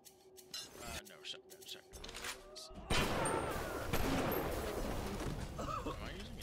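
A shotgun loaded with exploding rounds fires in the video game Bioshock, sharp blasts followed by a dense, noisy explosive wash, with a person talking over it.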